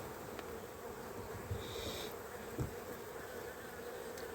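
Honey bees hum softly in an open hive during a late-September colony inspection, a faint continuous buzz with an occasional louder bee passing close and no talk.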